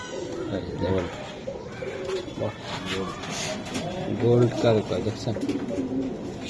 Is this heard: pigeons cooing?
yes